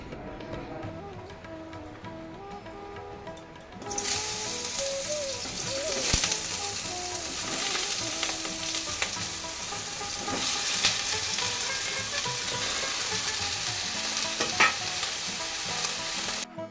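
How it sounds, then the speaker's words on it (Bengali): Pointed gourd fries in a pan with a steady loud sizzle that jumps in intensity partway through, joined by repeated scraping and stirring strokes of a spatula. "পটলটা কিন্তু আমি ভালো করে ভেজে নিচ্ছি।"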